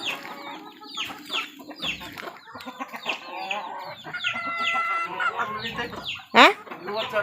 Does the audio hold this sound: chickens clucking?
yes